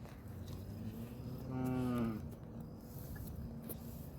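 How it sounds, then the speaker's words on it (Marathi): A gentle farm cow lets out a single drawn-out moo, fairly close and clear against quiet background noise, with no talking during the call. "ही खूप छान गाय आहे गाईस"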